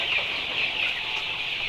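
Native Vietnamese chickens in a cooperative farm's play yard in Gò Công cluck continuously at moderate loudness over a constant high, shrill background drone.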